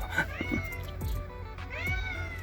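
A cat meows several times in a row, loud and close, with drawn-out wavering calls over a low background rumble outdoors.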